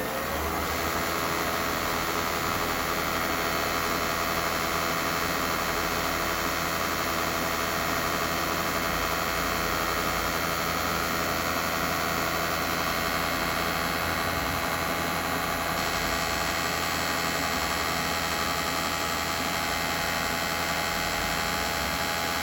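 A 2014 Southwestern Industries Trak DPMSX3P CNC bed mill spindle running in reverse, giving a loud, steady, unbroken machine hum and whine with no change in pitch or level throughout.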